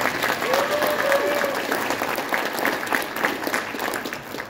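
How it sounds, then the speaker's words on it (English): A hall of fame induction crowd breaks into a round of applause, steady clapping filling the hall for several seconds, with a faint voice briefly audible over it. "Can you give them a special round of applause?"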